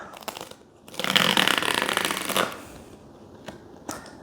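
A gray cardboard box for a COROS Apex 2 Pro watch, Kilian Jornet edition, slides open with a close, steady papery rustle lasting about a second and a half, framed by a few soft taps and handling sounds.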